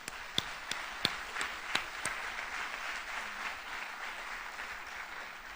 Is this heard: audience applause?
yes